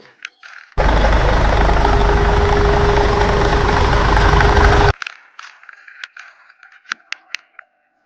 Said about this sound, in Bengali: এটা হলো ট্রাক।